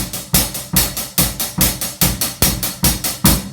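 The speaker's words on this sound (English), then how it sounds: "Normally, of course, when you're playing the hi-hat, it sounds like this." A hi-hat cymbal struck with a drumstick in a normal playing pattern, about ten crisp, bright hits with short decays in a steady, even rhythm, close and fairly loud with no talking.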